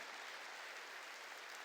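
A church congregation applauding together, a continuous wash of many hands clapping that sounds faint and distant but stays steady for its short length.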